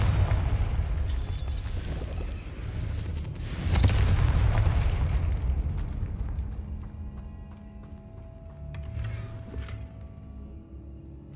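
Confringo spell explosions in the video game Hogwarts Legacy: heavy booming blasts with rumbling low-end impacts that swell, fade and return, with lighter crackling effects trailing off toward the end.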